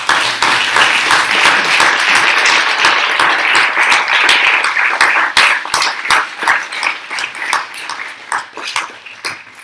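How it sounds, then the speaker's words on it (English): A crowd applauds steadily and loudly, many hands clapping together, thinning into scattered claps toward the end. "a big round of applause for her for that."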